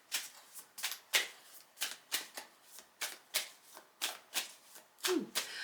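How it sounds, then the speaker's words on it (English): Tarot cards are shuffled by hand in a quick series of crisp riffling snaps, about a dozen close, bright bursts in an uneven rhythm. "I love it when they need a good shuffle."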